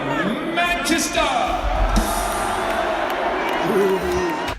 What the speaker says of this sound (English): Can you hear the booing?